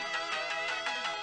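Electronic phone ringtone from the visual novel game Steins;Gate 0, a melodic, bright chime repeating in quick even pulses, fairly loud and alone.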